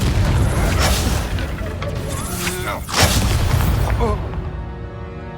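Confringo fire spell cast in the game Hogwarts Legacy, a loud booming burst over dense combat noise, followed by a fading tail.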